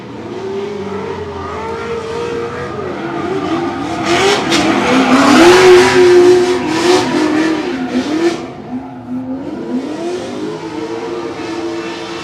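Drift cars, a Corvette C6 leading and a BMW chasing, rev hard with rising and falling engine notes and tire squeal, loud and close, swelling to a peak midway before easing off.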